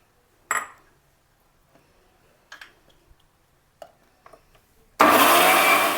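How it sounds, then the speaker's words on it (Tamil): A mixer grinder loaded with boiled chickpeas and tomatoes sits quiet while a few clicks and taps sound, then roars to life loud and steady for the final second of grinding. "இப்போது பாயில் பண்ண கொண்டை கடலை மிக்ஸ் பண்ணணும். அப்போது சேர்த்து கிரைண்ட் பண்ணணும்."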